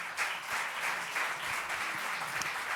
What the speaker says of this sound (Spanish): Un fuerte aplauso para Juan Manuel de Prada